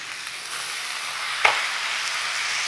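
Chicken tikka smash tacos fry in a hot pan with a steady, moderate sizzle. A brief scrape or tap comes midway, and no one speaks.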